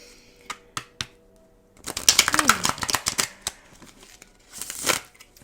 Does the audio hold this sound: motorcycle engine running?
no